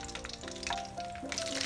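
Mustard seeds and cumin sizzle and crackle in hot oil in a pan, a steady close hiss with small pops while faint music plays underneath.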